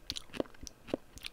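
A jaw clicks from TMJ while chewing cucumber: two sharp, loud clicks stand out over soft, wet crunching and mastication, close up and with no talk.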